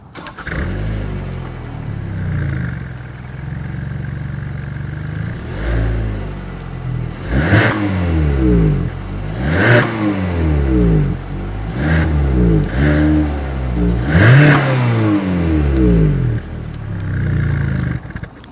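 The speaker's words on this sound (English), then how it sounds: "So as always, here is that exhaust clip." A Hyundai Tucson exhaust idles with a low rumble, then revs sharply several times in spaced bursts, each rise and fall loud and close.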